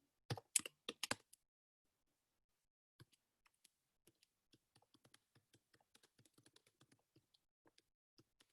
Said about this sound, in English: I'm just typing just a few prompts